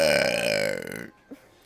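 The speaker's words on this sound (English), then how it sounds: "it's 2 burps, bro" A loud, drawn-out burp from a VTuber lasts about a second, tonal and wavering, before it cuts off into near silence with a brief faint sound after.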